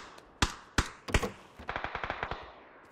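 Automatic gunfire in the PUBG battle royale game: a few sharp single shots followed by a rapid, evenly spaced burst of about ten rounds, loud and close, with no talking.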